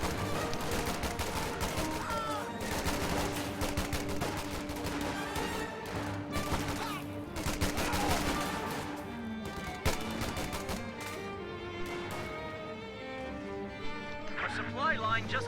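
Massed gunfire from BAR rifles in a World War II strategy game battle, dense overlapping bursts and shots over continuous battle noise, with a commentator's voice talking throughout.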